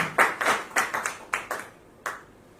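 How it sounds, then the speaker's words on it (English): A handful of audience members clap for architect Syed Salar at a magazine issue launch. The claps are sparse and uneven, about nine sharp hand claps over two seconds, then a single late clap. "Huge round of applause for Syed Salar."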